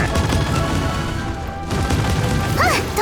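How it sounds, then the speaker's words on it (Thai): Boss attack explosions from the Pyro Regisvine fight in Genshin Impact, dense booming and crashing game effects over a steady loud soundtrack, with a brief rising whoosh near the end and no talk. "แล้วก็จะยิงออกมาเป็นระเบิดลูกใหญ่ที่มีดอกตูมโผล่มาที่พื้นฮะ"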